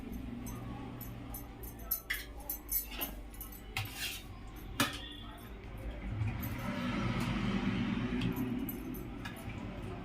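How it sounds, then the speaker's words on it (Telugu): A metal spoon serves ghee onto Rayalaseema pulagam, tapping a vessel several times in light, uneven clinks before a steady soft background hiss. "ఇదిగో ఒక స్పూన్ నెయ్యి."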